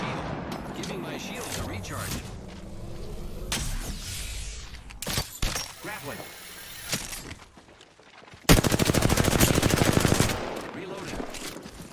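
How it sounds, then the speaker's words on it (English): Video game gunfire crackles in bursts, with a sustained loud volley of rapid automatic shots near the end, under in-game voice callouts. "Being shot at."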